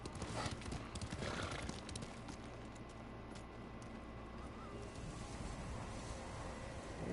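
A black horse named Kage gallops with steady clip-clopping hooves and an occasional whinny in Ghost of Tsushima, the hoofbeats continuous and fairly loud over a rushing outdoor wind bed.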